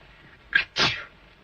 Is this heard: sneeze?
yes